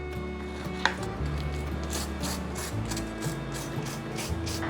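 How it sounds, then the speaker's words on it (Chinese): Lemon peel being grated into zest with rhythmic scraping strokes against the grater, close and fairly loud, with faint background music and no talk. "把柠檬皮刨成屑"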